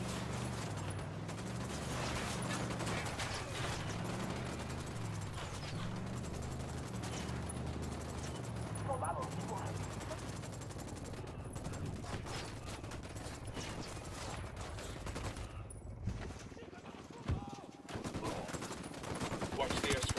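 Sustained gunfire in the tactical shooter game Ghost Recon Wildlands, rapid bursts and volleys layered over a dense mechanical din, loud and continuous through most of the stretch, with a brief lull near the end.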